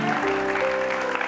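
Studio audience applause for a guest on a live TV music show, a steady dense wash of clapping throughout with no pauses.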